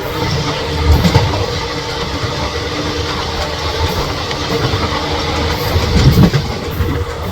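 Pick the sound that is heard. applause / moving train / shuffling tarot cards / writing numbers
moving train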